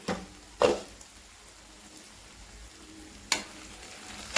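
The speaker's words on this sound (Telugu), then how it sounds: "ఇలా పొటాటోస్ అంతా బాగా మగ్గిపోయాయి చూసారా ఈ విధంగా వచ్చే వరకు బాగా వేయించుకోవాలి" Potatoes frying in a pan for aloo masala curry, a soft steady sizzle close by, broken by a few louder stirring scrapes.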